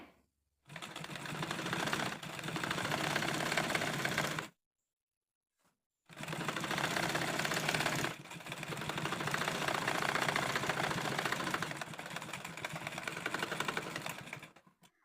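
Sewing machine stitching a small child's dress, running in two long, loud continuous bursts separated by a brief pause, with no voice over it.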